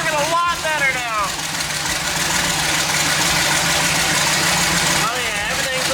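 A twin-turbo Mustang engine idles with a steady mid-range drone throughout, and a voice briefly cuts in near the start and again near the end.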